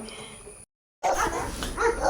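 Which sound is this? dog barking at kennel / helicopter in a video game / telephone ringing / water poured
dog barking at kennel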